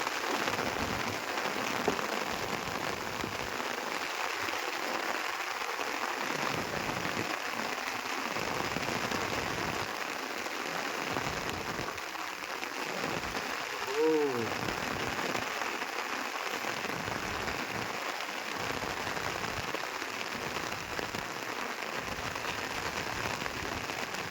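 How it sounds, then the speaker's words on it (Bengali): Heavy rain pours steadily on a fishing boat in a dense, hissing roar, drumming on a hard surface close by for a long stretch without letup. "প্রচণ্ড জোরে বৃষ্টি হলো বন্ধুরা"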